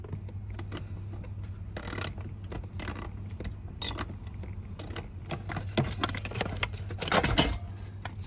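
Screws are worked loose from a 1984–1989 Chevrolet Corvette C4 digital gauge cluster, with close metallic ticking, clicks and scraping in irregular bursts, growing busier and louder toward the end.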